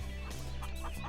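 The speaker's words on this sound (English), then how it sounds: "We got our chickens." Chickens clucking in the video game Farming Simulator 2017, a few short soft clucks from a chicken coop on an American outback farm map, heard fairly quietly over low background ambience.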